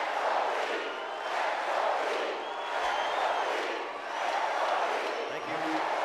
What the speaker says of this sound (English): Let's go, Pete, is the chant.